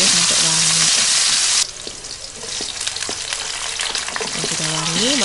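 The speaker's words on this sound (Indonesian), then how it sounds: "tumis bawang, brambang dan juga cabenya sampai wangi" Garlic, shallots and chili sizzle loudly in hot oil in a wok, a steady close frying hiss with stirring scrapes and occasional clinks throughout.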